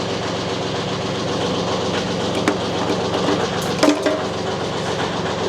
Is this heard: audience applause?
no